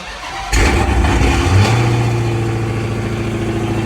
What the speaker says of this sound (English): Excuse the startup, it's gonna be loud as shit.